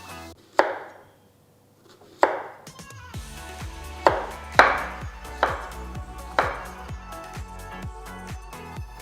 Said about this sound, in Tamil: நான் ரொம்ப திக்காவும் கட் பண்ணலை, ரொம்ப மெலிசாவும் கட் பண்ணலை.